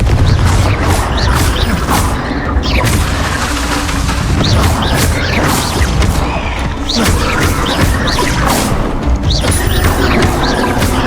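Confringo blasting spells in Hogwarts Legacy, loud, repeated bursts and crashing impacts over a dense, continuous din of combat, with no talking.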